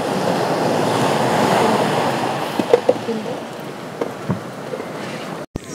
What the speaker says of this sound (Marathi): तिथे बघा किती मोठ्या लाटा उसळत आहेत